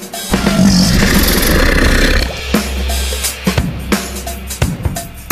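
An alligator's roar, a deep rumbling bellow that holds loud and steady for about two seconds, then gives way to quieter low growls and a few sharp knocks, with no talking.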